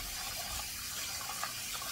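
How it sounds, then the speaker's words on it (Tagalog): Four cups of glutinous rice being washed in water give a steady, close splashing and rushing sound, with no one speaking. "meron po ako ditong 4 cups na malagkit. Ngayon po ay ating siyang hugasan."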